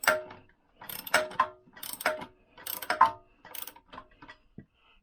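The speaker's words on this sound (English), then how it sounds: "what we're doing is tighten this one up first" A bolt being tightened on a Lambretta scooter engine during a rebuild, heard as a series of close ratcheting clicks in short bursts separated by brief pauses.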